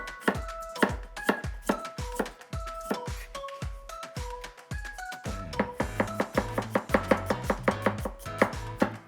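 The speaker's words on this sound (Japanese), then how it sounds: "にんにくと玉ねぎ切りますね" A knife chops garlic and onion on a cutting board for a roast beef sauce in a close, rapid, steady run of sharp taps that speeds into a quicker rhythm partway through.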